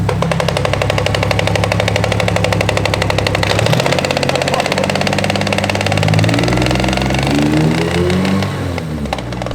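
A Nissan S14 engine runs loud and close with a faulty gearbox, a harsh rattling clatter riding over the rough idle before the revs shift and climb near the end.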